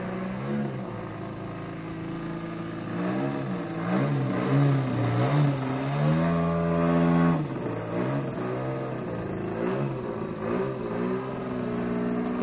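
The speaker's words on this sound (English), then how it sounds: "The motor hardly sees above half throttle." A Hyperlite Slick 540 wakeboard boat motor running at part throttle, a steady droning hum whose pitch rises and falls as speed shifts, continuous and fairly close.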